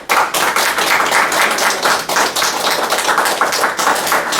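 A church congregation bursts into sustained hand clapping after a prayer, a dense, loud, steady patter of many hands with no talk.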